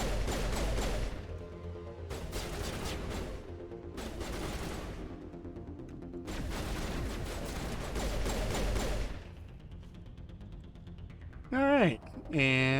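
Combat in Mass Effect 1 with frisbee grenades going off: bursts of gunfire and crashing impacts come in loud clusters separated by brief gaps, and a whooshing sweep comes near the end.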